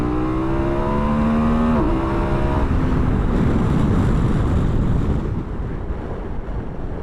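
A KTM 1290 Super Adventure S motorcycle pulls hard in a roll-on from 60 to 100, its engine tone rising under loud, steady wind rush. Buffeting wind drowns the engine toward the end.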